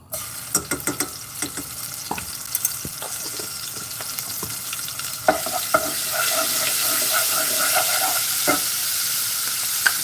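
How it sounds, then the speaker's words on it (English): Minced garlic sizzles steadily in a hot pan for Spanish rice, with scraping stirs and light clinks from the utensil over a constant frying hiss that grows slightly fuller toward the end. "I'm going to also add a heaping teaspoon of minced garlic."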